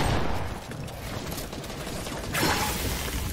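Gunfire in a video game, a steady clatter of rapid shots over a noisy background, with a louder burst of fire swelling near the end.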